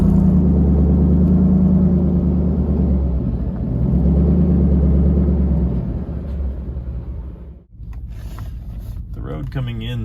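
A recovery truck backs up on a narrow snowy road, its engine a low, steady rumble close by that dips and settles partway through, followed by some lighter mechanical clatter.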